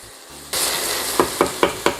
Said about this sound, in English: 2 tablespoons of olive oil, just enough so that these onions can caramelize properly.